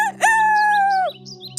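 Rooster crowing once, a single clear drawn-out cock-a-doodle-doo close by, with a faint steady hum beneath and no talk.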